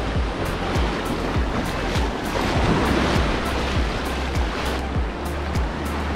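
Ocean waves break and wash continuously on Playa Esmeralda in the Dominican Republic, a loud, steady surf roar with repeated crashing surges close by.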